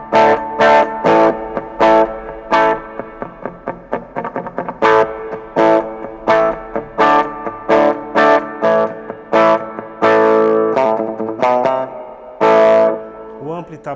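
An Epiphone SG G400 electric guitar through a clean amp and booster, with a crunchy, slightly distorted tone: rhythmic strummed chords and single notes in repeated bursts, loud and close, heard alone.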